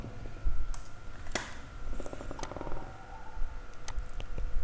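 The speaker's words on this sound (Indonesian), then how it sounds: "Lalu terakhir kita tekan enter pada keyboard." Keys tapped on a computer keyboard while working in Microsoft Excel, with a few light clicks standing out over a low background hum and no talking.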